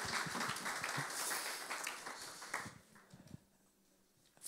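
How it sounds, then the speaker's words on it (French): Church congregation applauding together during a service, a dense rush of clapping that holds steady for a couple of seconds, then thins and fades to scattered claps and quiet. "Vous pouvez vous applaudir, vraiment."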